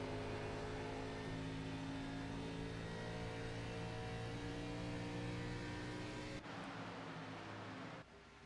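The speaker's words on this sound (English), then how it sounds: "So everybody sounds like it's shifting now in these corners in the longer run." Race cars at Pocono shifting down through the corners, a continuous engine drone with layered tones, loud and sustained, cutting off sharply near the end.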